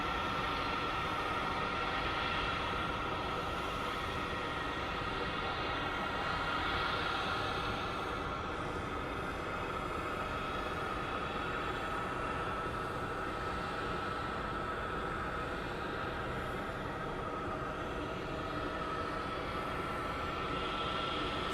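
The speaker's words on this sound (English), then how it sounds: "That is the best sound when you hear the APU turn on." Aircraft auxiliary power unit running at night at Phoenix Sky Harbor International Airport, a steady broadband whine and roar with a constant tonal hum, continuous for the whole stretch at moderate distance with no talk.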